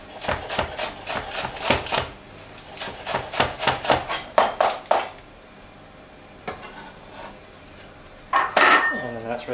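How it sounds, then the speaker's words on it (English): A knife slices through salmon in quick rhythmic strokes, crisp and close. A few heavier taps and a short scraping clatter follow after a quiet gap. "I'm just going to slice with a knife."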